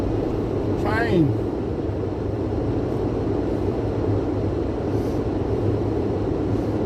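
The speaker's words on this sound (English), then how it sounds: "Train! Train!" A train creeps slowly into a station, giving a steady low rumble and hum that holds throughout, with a brief rising then falling whine near the start.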